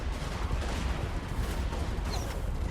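Dwarf units firing guns in a Warhammer multiplayer battle against Chaos, a dense, continuous fusillade of overlapping shots and battle noise that stays loud throughout.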